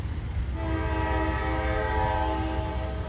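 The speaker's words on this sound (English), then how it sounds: "Uh-oh, that's the train." A train horn sounds one long sustained blast at moderate distance over a low rumbling background.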